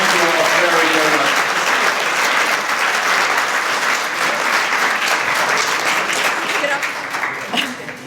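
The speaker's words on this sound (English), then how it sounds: "I think our panel deserves a big round of applause for their time." Audience at a smart-growth and sustainable-communities summit gives a sustained, loud round of applause for a panel, dense steady clapping across the whole stretch that thins slightly near the end.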